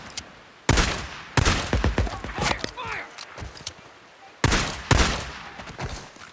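Gunfire in the video game Days Gone comes as several loud bursts of shots, separated by quieter gaps, with a voice talking between them.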